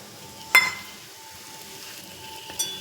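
Grated coconut roasting in oil in a pan for vazhai poo podi gives off a faint, steady sizzle, broken by two sharp clinks of a utensil against the pan.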